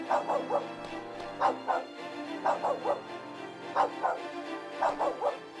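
A dog in the Simon the Sorcerer 3D video game barks in repeated clusters of two or three yips, giving a steady, rhythmic sequence. The barks sound close and fairly loud over a low background hum.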